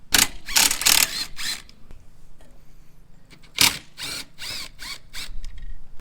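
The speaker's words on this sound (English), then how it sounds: "that's where you're going to need your 13mm socket. So let's go ahead and take this guy off." A 13mm socket on a ratchet loosens the licence plate bracket bolts on a Honda Navi, short bursts of rapid clicking close by in two groups, with quieter mechanical handling between them.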